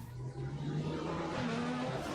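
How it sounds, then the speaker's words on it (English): A GTE race car engine at Laguna Seca in a racing game drones steadily under throttle with a rising whine, moderately loud and continuous, with no voices over it. "He then just powered the throttle."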